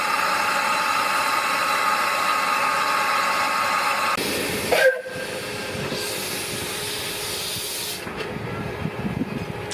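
Steam locomotive on the Ffestiniog Railway, the narrow-gauge slate line between Ffestiniog and Porthmadog in Wales, hissing steadily with a sustained whistle-like tone, a brief loud thump midway, then continuing steam hiss and rumble, no voices.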